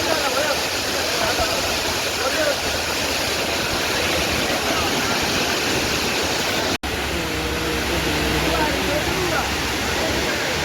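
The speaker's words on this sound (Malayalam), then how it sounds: "വെള്ളം നമുക്ക് ഇങ്ങനെ ഒലിച്ചാണ്ട് പോകുന്നുണ്ട്" Water rushing down a hillside stream near Kodaikanal, a dense continuous roar that stays loud and close, with a brief dropout late on.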